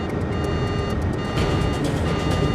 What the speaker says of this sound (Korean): 갑자기 기내 공중충돌 방지 장치 TCAS가 경보를 울립니다.